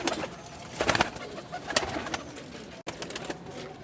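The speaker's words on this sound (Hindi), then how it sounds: "ये माशाल्लाह कबूतर है" Teddy-breed high-flying pigeons cooing in a breeding setup, soft repeated coos mixed with sharp clicks and wing or cage noises, fairly close, with no talking.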